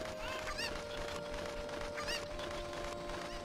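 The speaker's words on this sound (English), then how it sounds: "now use this chicken to get the other chickens" A cucco chicken clucks in The Legend of Zelda: Ocarina of Time, with repeated squawking clucks in quick bursts over steady game background sound.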